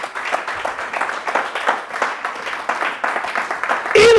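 A church congregation applauds the Lord in rippling clapping that swells and fades, fairly close and loud, with a voice breaking in at the end.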